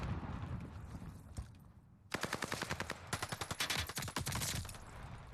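Rapid bursts of automatic gunfire in the first-person shooter The Vanguard Alpha, crisp repeated shots following a quieter stretch of game ambience, loud and close.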